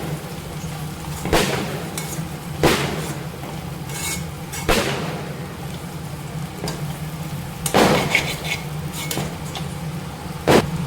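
Chapati noodles being stirred in a pan, with a spatula scraping and clanking against the metal at irregular intervals over a steady sizzle, close and fairly loud with no talking.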